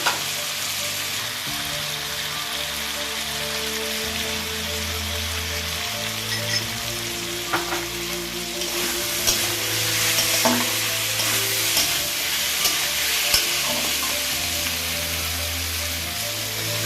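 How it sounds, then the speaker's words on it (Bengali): Spiced potatoes for a vegetarian aloo dum sizzle and fry steadily in a pan while being stirred, with a continuous crackling hiss throughout and no talking. "মশলাটা আলুটা সুন্দর করে কষিয়ে নিয়েছি"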